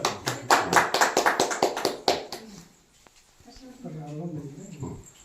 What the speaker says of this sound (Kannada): ಚಪ್ಪಾಳೆ ಕೊಡ್ರಿ ಎಲ್ಲರೂ